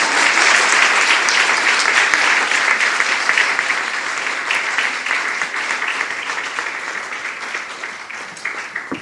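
A crowd at a political speech by an Indian politician outside parliament applauds in a dense, continuous roar of clapping that starts strong and slowly tapers over about nine seconds.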